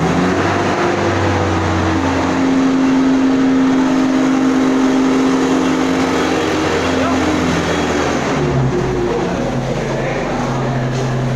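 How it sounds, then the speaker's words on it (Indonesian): Loud, close car engine revving in an automotive workshop, holding a high idle before dropping and changing pitch near the end, with voices speaking briefly over it. "Digas Mas"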